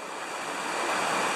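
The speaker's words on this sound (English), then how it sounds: "And here's the McCullamy River." Steady, broadband rushing water of the Mokelumne River in Northern California, heard from a rock above it, a continuous full wash that swells slightly louder toward the end with no pauses or voices.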